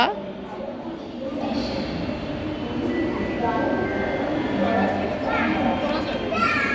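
A metro rail train runs with a continuous rumbling, rattling ride noise and faint squealing tones, heard from inside the car while people talk nearby.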